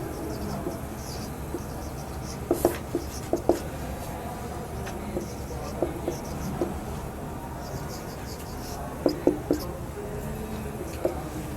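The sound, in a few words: writing words on a board during a lesson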